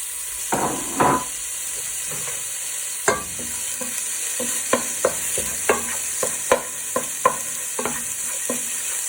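Beef mince for a cottage pie is stirred and broken up in a pan with a wooden spoon, a soft sizzle under a run of regular knocks and scrapes of the spoon against the pan, close up, with no talking.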